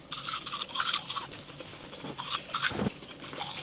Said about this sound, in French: C'est la première fois que je me lave les dents pendant une vidéo, c'est très bizarre.